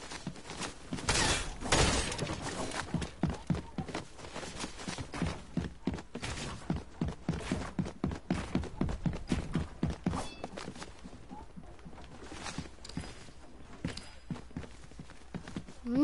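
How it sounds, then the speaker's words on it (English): Footsteps in a video game rendered as loud, fast irregular thuds and crunching impacts that tick along steadily for the whole stretch, with no talk over them. "Footsteps are louder."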